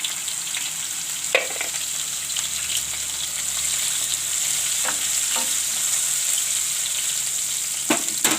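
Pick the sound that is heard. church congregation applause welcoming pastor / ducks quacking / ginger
ginger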